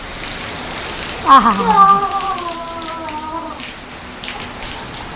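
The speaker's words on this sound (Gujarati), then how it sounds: "તો આ બાજુ પવન સાથે વરસાદ ચાલુ થયો" Heavy wind-driven rain pours down in a steady, broad hiss close by, with a voice briefly exclaiming over it.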